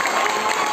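A church congregation clapping in appreciation, a brief dense patter of many hands applauding together at steady moderate loudness.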